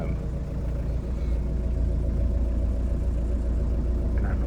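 A 1991 VW Doka Syncro 4x4 three-door truck idles nearby with a steady, low mechanical hum and even rumble, holding a constant level with no talking.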